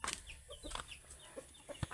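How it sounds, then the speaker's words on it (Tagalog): Chickens cluck and rustle close by in a kitchen, with brief scratching and fluttering sounds coming in short bursts. "puro manok doon nagapangukay sa kusina"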